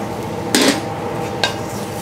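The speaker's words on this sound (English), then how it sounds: "now we roast the grated coconut" Grated coconut being dry-roasted in a pan for a spicy Thai pomelo salad: two brief scraping, clattering strokes of a utensil against the pan over a quiet background hiss.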